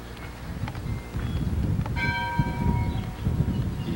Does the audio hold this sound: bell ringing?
yes